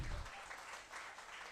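An audience applauding at a college conference in a hall: a faint, even wash of many clapping hands from across the room, steady throughout, with a brief low thump at the start.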